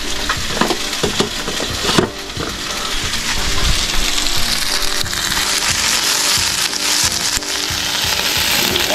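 Food sizzles and fries steadily in a skillet, loud and close, with scraping and stirring clatter from a utensil near the start and no talk.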